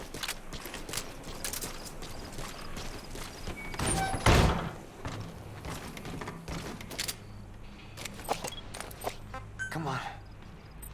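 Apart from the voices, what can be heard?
horse hooves galloping in video game Metal Gear Solid V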